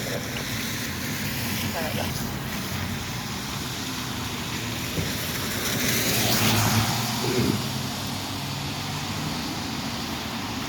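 A car turns left at a city traffic light at Seaver and Columbus, its engine a steady mid-distance hum amid street noise, swelling briefly as it passes.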